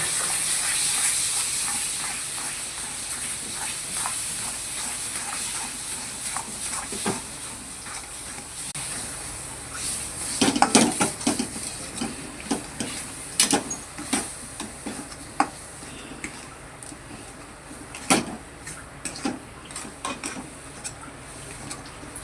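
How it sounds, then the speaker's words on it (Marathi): Grated coconut and other mango barfi ingredients are sautéed in a pan, a soft steady hiss and sizzle under intermittent clanks and scrapes of stirring that grow louder and more frequent in the second half. "आता आपलं मेन इन्ग्रेडियंट्स टाकणार आहे आणि चांगलं असं परतून घेणार आहे।"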